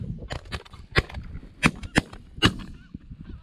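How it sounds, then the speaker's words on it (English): Shotgun blasts fired at incoming geese during a goose hunt ring out as several sharp, loud cracks spaced across a few seconds, mixed with the honking of geese overhead. "I shot under the first one, clipped the second one, of which Dewayne very kindly finished off"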